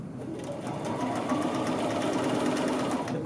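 A sewing machine stitches a men's shirt collar, a close, steady motor hum with rapid needle clatter running continuously throughout.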